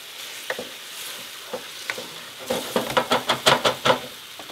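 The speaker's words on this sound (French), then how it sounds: "vous y rajoutez, pour déglacer, votre fond de veau dans son petit verre d'eau" Pork chop pan deglazed with veal stock and water while being stirred: soft sizzling hiss, a few scattered scrapes, then a quick run of louder rhythmic stirring splashes and scrapes close by.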